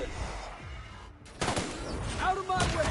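Gunfire in The Outer Worlds, a sci-fi shooter game: after a brief lull, sharp shots and dense bursts crack out close and loud over a busy game soundscape.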